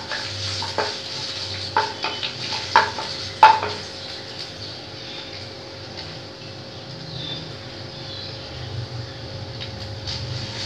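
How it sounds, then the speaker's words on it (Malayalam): Ginger and curry leaves frying in hot oil for a vendakka coconut milk curry, a steady sizzle with several sharp utensil clinks early on, then a continuous even hiss throughout. "അതിലേക്ക് നമുക്ക് കുറച്ച് വേപ്പിലിട്ട് കൊടുക്കാം. ഇനി ഇതിലേക്ക് കുറച്ച് ഇഞ്ചി ഇട്ട് കൊടുക്കാം."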